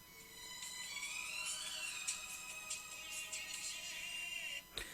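A custom song set as an iPhone ringtone plays back, a continuous bright musical tune with a fairly steady level and a brief dip near the end, heard alone without talk.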